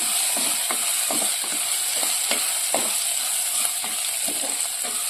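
Curry leaves sizzle steadily in hot oil in a pan for a homestyle sardine curry, with a bright continuous hiss broken by soft clicks of stirring, close and loud with no talking.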